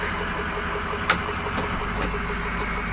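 A 2005 flatbed truck with a 6.0 engine idles with a steady, even rumble as it is slowly moved back into its spot, with one short sharp click partway through.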